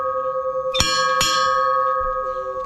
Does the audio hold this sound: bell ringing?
yes